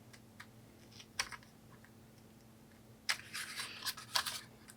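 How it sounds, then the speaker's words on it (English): Small scissors snip into the corner of material on a miniature folding dollhouse bathroom build, giving a few crisp, close cutting clicks separated by quiet pauses, ending in a busier cluster of snips. "now I'm going to take my scissors and clip into this corner"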